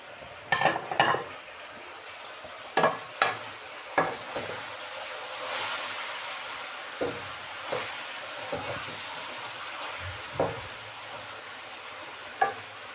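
Chopped tomatoes are added to cauliflower frying in a pan, giving a soft continuous sizzle broken by sharp clanks and scrapes of stirring at irregular intervals, close by and without talk.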